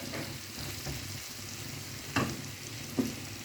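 Spicy chilli prawns fry in a pan with a steady close sizzle and hiss, broken by two sharp utensil clinks near the end.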